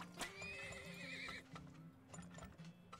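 A horse neighs in the video game Turmoil, a high wavering whinny over steady hoof clip-clop and light background game sounds, with no talking.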